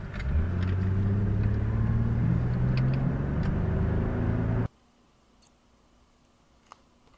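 Evening rush-hour road traffic near a store in Asheboro, North Carolina, with a loud, continuous rumble of passing cars for about four and a half seconds, then a sudden cut to near silence with a faint tick.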